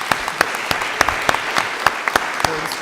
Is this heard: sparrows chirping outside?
no